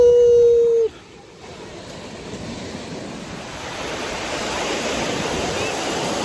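Cold Atlantic Ocean surf breaks on a sandy beach in Spain, a broad wash of waves that rises gradually and grows louder over several seconds, following a brief tone at the start.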